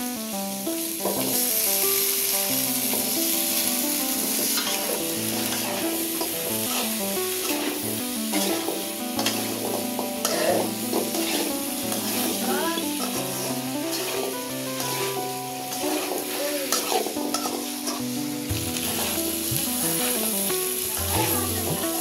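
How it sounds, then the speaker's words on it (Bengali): Small whole potatoes frying with beef tripe in a hot pan, a dense, steady sizzle with stirring scrapes running throughout, loud and close, over a background of music. "এখন দিয়ে দেব ছোট ছোট আলু।"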